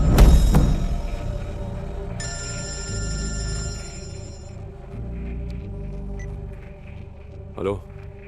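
A telephone rings in a tense Hindi action movie scene, a bright electronic ringtone pulsing for a couple of seconds after a sharp thud, with low rumbling score and voices around it.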